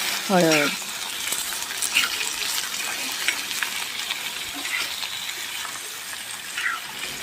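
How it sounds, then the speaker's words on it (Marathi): Vegetable slices fry in hot oil on a stove for a quick lunchbox sabzi, giving a steady close sizzle with brief stirring scrapes and a short clatter near the start. "हे असे काप टाकून परतवायचे तेलात, चांगले त्यांना फ्राय करायचं म्हटलं तरी चालेल"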